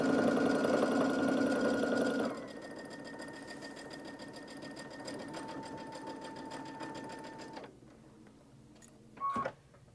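A sewing machine runs a straight quarter-inch seam on a birthday dress, a loud close whir that slows and softens partway, then stops, followed by a brief mechanical clunk.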